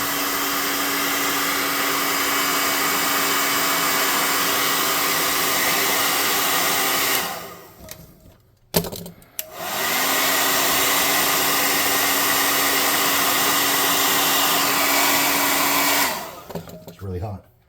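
Hair dryer blowing hot air over a miniature tabletop figure, a loud steady whir that cuts off, briefly rattles and restarts, then runs again before switching off near the end.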